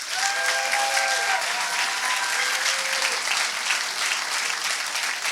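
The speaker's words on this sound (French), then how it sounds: "Applaudissons Anaïs Lefebvre." Applause at a secondary school graduation gown ceremony for a graduating student, steady dense clapping from a large crowd filling the hall for several seconds, with faint whistles or cheers over it.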